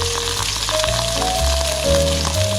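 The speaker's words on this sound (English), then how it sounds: "get a good sear in the oil for about a minute, minute and a half, and then I'll flip it over" Salmon sears in hot oil in a pan, giving a steady, close sizzle and frying hiss that runs unbroken and fairly loud, with no voices over it.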